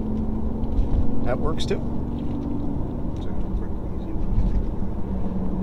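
A BMW i8 sports car driving along, its engine and road noise a steady near rumble beneath people talking inside the cabin.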